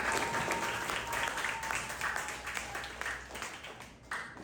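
Students in a Year 6 maths classroom clap together, a steady wash of applause lasting several seconds, fairly loud with a brief swell near the end.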